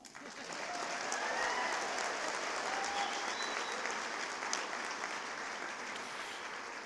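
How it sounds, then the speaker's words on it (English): Audience at a university commencement ceremony applauds in a sustained, even wash of clapping that swells and slowly tapers, heard at a moderate distance without speech. "now we can applaud"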